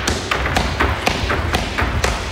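Rapid left kicks slam into a pad at an MMA exhibition, a steady run of sharp thuds about two to three per second, loud and close, with no voices.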